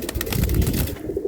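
Pigeons kept for sale at a market or loft, a soft, low, rolling coo lasting about a second, close by, with no talk over it.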